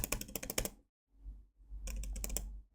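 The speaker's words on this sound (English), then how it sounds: "then keep pressing spacebar and take a look" Spacebar tapped repeatedly on a Mac keyboard, a run of close, crisp keystrokes, then a short pause and another burst of rapid clicking with a faint low hum underneath.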